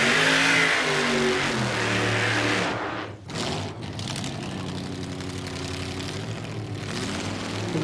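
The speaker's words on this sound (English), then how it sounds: "This vehicle's like a funny car with a 32 Ford coupe body on it." A funny car wearing a 1932 Ford coupe body races down the strip at a burnout and show-car event, its engine blaring loud and raw with a brief dip before roaring on steadily.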